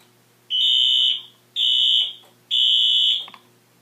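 A fire alarm panel sounds a manual evacuation set off from its annunciator: three loud, even electronic tones of about half a second each, separated by short gaps, close up with nothing else heard.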